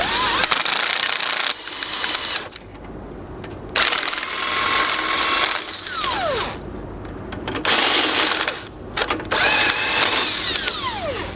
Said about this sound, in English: Now we can take our 19mm socket and tighten them down.